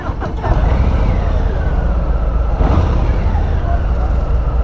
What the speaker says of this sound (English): Kind of a normal Harley stock sound.